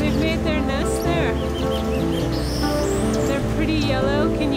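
Yellow birds chirp and tweet at their nests in a tree in Goma, a busy chorus of high, quick calls over a constant noisy background, with no one talking.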